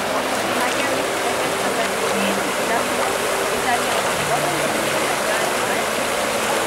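Steady rushing water flows around the water slides and wild-stream lazy river at the Grecotel Olympia Oasis hotel in Kyllini, Peloponnese, a continuous close wash of noise for the whole stretch.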